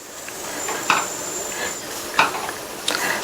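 A spoon stirs mung bean porridge in a cooking pot, scraping and clinking against the metal three times at a steady pace under a soft, constant simmering hiss.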